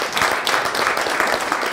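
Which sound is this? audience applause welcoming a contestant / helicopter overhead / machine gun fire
audience applause welcoming a contestant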